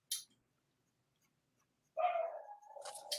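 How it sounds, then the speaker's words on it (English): A dog barks indoors on a street with frequent delivery trucks: one short sharp bark, a long quiet pause, then a sustained loud whining bark that breaks into further yelps, fairly close. "what's he barking at?"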